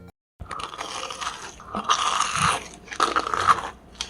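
Crunchy bites and chewing on deep-fried pizza, several loud crisp crunches in quick succession, close up with no talking.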